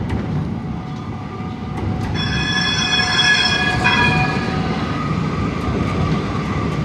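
Beside a small footbridge over the Douro in Porto, a train rolls past at close range with a steady rumble, rising to a loud passage of high wheel squeals before easing off.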